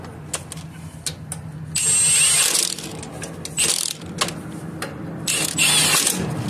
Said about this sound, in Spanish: Si están usando un impacto para aflojar esas tuercas, no lo usen para apretarlas. Solamente úsenlo para llegarlas.